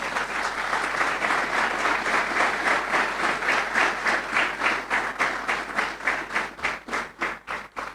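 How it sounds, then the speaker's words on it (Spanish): A church congregation applauding during a sermon, dense crowd clapping that gradually settles into synchronized rhythmic claps, beats growing sharper and more spaced toward the end. "Un aplauso al Señor"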